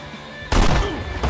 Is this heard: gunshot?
yes